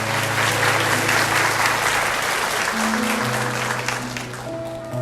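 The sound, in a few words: congregation applauding in church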